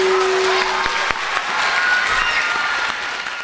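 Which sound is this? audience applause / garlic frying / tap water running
audience applause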